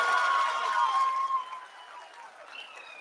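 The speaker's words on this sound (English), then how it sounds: "People are applauding." Applause and some cheering from a crowd greeting the Chandrayaan 3 lunar landing, loud at first then fading, with faint voices and a tonal sound lingering behind.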